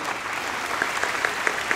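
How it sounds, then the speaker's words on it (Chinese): An audience at a 2018 Atomy business seminar in Lukang, Taiwan, claps in thanks, a brief burst of steady, dense applause filling the hall. "请给董事长一个感恩的掌声"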